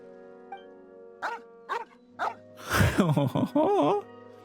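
A dog named Lombroso in Genshin Impact gives three short barks followed by a cluster of yips and whimpering yelps, close and clear over a soft steady music bed, with no talk.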